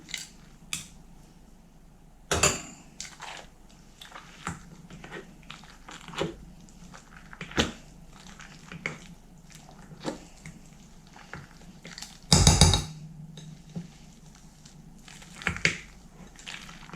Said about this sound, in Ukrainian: одне яйце, потовчу це все.